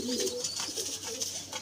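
Healthy pigeons cooing softly in a loft, a few low throaty coos close by over a faint background hum.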